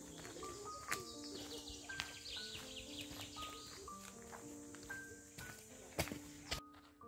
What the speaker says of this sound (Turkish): Kuş sesleri eşliğinde yürüyoruz.